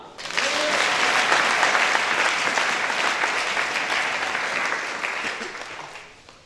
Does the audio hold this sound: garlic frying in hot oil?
no